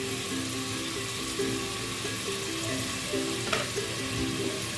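Onion, ginger, tomato and garlic sizzling in about half a cup of cooking oil inside a pressure cooker, a steady close frying hiss with a brief splash of stirring partway through.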